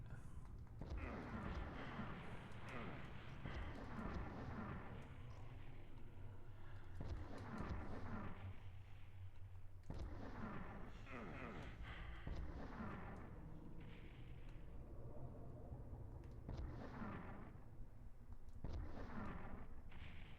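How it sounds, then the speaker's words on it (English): Rocket launcher blasts from the 1996 PS1 game Final Doom sound as repeated deep, booming explosions that recur every few seconds among gameplay noise, mostly loud but with a somewhat muffled quality. "take some cover and get the rocket launcher ready"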